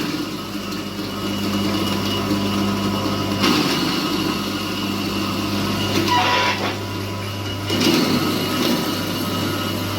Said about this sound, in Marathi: या मशीनमध्ये अशा प्रकारे खारे खोबरं टाकायचं आहे आणि मशीन चालू करून मिक्स मिक्सरने मिक्स करून घ्यायचं आहे बारीक करून घ्यायचं आहे